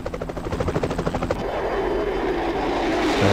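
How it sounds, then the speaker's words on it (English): Black Hawk helicopters fly in the F22 Total Air War video game, their rotors thumping in rapid, regular pulses before giving way to a steady, swelling engine roar. "some Black Hawks flying around"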